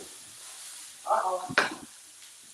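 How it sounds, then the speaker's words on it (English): Garlic and onions frying in a pan, a soft sizzle swelling into a brief louder stir and scrape before settling back, with a short spoken exclamation over it. "It's like a sound that you can almost smell the garlic and the onions when you hear that."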